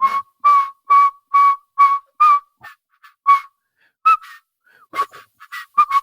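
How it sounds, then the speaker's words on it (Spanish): A person whistles a melody, a clear, close, high tune of short repeated notes in a jaunty rhythm with brief pauses, alone without talk. "No sé si recordamos el silbido."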